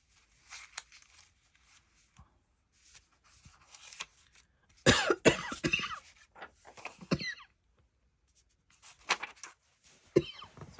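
Coughing from a person at a crafting table where paper scraps and washi tape are being sorted, with a loud burst of coughs in the middle and quieter rustling and throat noises around it.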